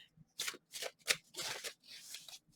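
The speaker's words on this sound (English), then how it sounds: "I'm really not sure how to shuffle this deck" Tarot cards shuffled by hand in several quick bursts of papery riffling and slapping, each lasting a fraction of a second with short pauses between, close and fairly quiet with no talking.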